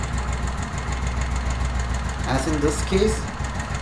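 A Royal Enfield Thunderbird 350X motorcycle engine idles steadily after an oil change, a low, even thumping throb that runs throughout while someone speaks briefly near the end.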